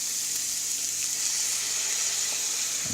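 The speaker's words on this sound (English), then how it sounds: "you can just hear that sizzle a little bit" Steady, soft sizzling of onions and broccoli frying in a pan, a continuous hiss with no talking.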